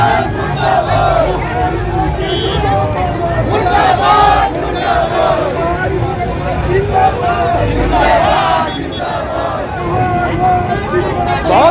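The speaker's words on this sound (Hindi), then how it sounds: "बहुत भीड़ थी रैली में और धीरे धीरे अभी भीड़ बढ़ने लगी है।" A large, noisy crowd at a political rally at a parade ground, with dense babble, overlapping shouting voices and cheers rising and falling throughout.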